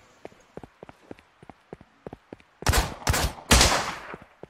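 Gunfire in the zombie survival game Miscreated: a few sharp, loud bursts of shots crack in quick succession near the end, after a stretch of soft, rhythmic footstep-like thuds.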